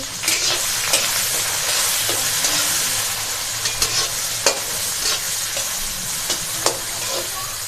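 Cumin and onions frying in hot oil for homemade pasta, a close, steady sizzle with periodic stirring scrapes and taps, no talk over it.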